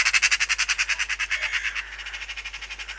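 Magpies and crows calling while mobbing a buzzard over an oat field in November: a fast, regular run of harsh rattling chatter calls, fairly close and loud at first, then continuing a little softer.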